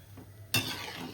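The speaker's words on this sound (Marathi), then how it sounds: "ह्याला अशी उकळी आलेली आहे, थोडी उकळी येत आहे" Potatoes being fried in hot oil for homemade French fries, a short burst of sizzling that jumps up sharply partway through and keeps crackling steadily close by, with no talking.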